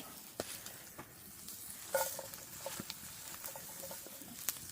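Onions frying in a pan over an open fire pit, a soft continuous sizzle and crackle with scattered small pops and ticks, close by and fairly quiet.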